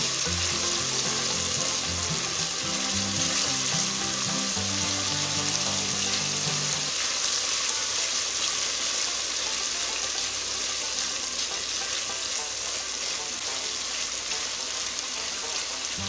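Masala sizzles and fries in hot oil in a pan for a moong dal kofta curry, a loud, dense, steady crackle lasting throughout, close up with occasional stirring and no speech.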